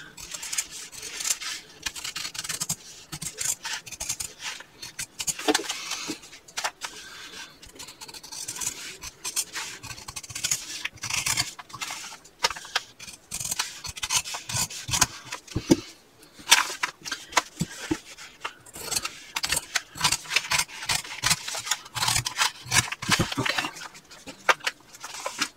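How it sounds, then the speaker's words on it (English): Scissors cutting a fabric sewing pattern piece for a clutch bag, making continuous close, scratchy snips and rubbing rasps over fabric and paper that rise and fall in uneven bursts. "now I'm ready to cut out my pattern piece."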